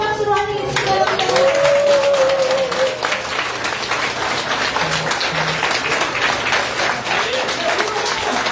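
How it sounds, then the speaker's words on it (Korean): Applause from an audience welcoming a candidate arriving at a party members' meeting room in Jeju, a steady sustained clapping that fills the room, with a voice briefly heard near the start. "뜨거운 박수로 환영해 주시기 바랍니다"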